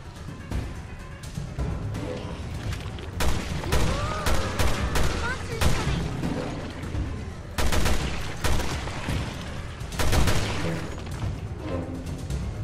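Repeated gunfire in Resident Evil: Revelations 2, loud bursts and single shots with booming impacts spread through the stretch, close and punchy over a rumbling game background.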